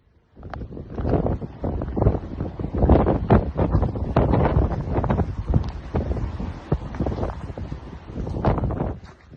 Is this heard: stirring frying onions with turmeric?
no